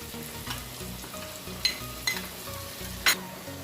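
Flour roasting in butter in a pan, a soft, steady sizzle under a low hum, broken by a few quick scrapes of stirring.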